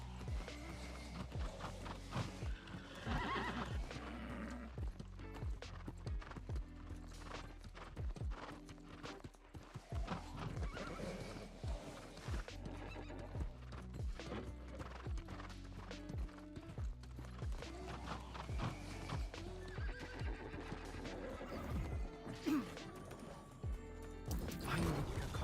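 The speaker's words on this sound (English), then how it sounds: "Your horse looks strong and eager." Horse hooves clip-clopping in a steady rhythm in the video game New World, with occasional neighs, under game music and effects.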